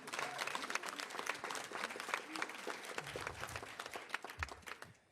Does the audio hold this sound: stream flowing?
no